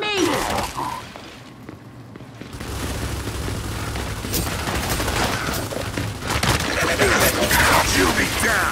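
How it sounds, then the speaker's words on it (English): Gunfire in the Gears 5 video game, dense bursts of shots and booming impacts running continuously under shouting voices, loud and close throughout. "Why are you shooting at me?"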